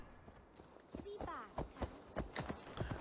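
Horse hooves clip-clopping in Assassin's Creed Valhalla, a quickening run of hoofbeats with game sounds, loud and close.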